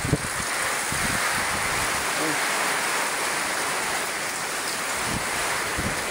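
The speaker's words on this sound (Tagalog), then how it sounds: "Ang lakas ng hangin." Powerful typhoon wind roars continuously, a dense rushing noise with heavy low-end buffeting against the microphone, steady and loud from start to finish.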